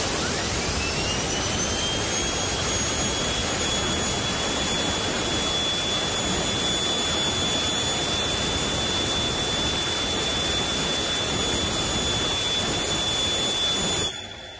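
A small gas turbine engine on a test rig spools up from its start with a rising whine that settles into a steady, loud high-pitched scream over a roaring rush, running continuously before cutting off at the very end.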